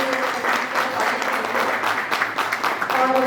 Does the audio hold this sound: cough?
no